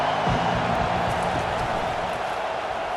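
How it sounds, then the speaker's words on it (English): A football video game crowd in the Illinois Yellow Jackets vs Margaret TigerCats matchup roars in a dense, continuous wash of cheering with no breaks. "this crowd is turning it up a notch"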